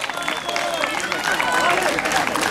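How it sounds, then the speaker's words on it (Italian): An audience at a Motoclub Misano Adriatico presentation applauds to welcome rider Francesco Prioli, a steady wash of many hands clapping with crowd murmur underneath, continuous and fairly close throughout. "invitiamo qua con noi con un grande applauso Francesco Prioli"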